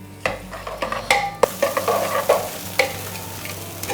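Kerala-style green peas kurma sizzling in a pan as a spoon stirs it, steady frying crackle with repeated scraping strokes, close and fairly loud, no voices.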